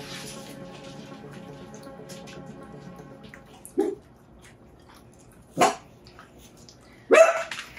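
Dogs bark indoors in a room where houseplants are being potted, three short sharp barks spaced a couple of seconds apart over a faint background hum, close by and fairly loud.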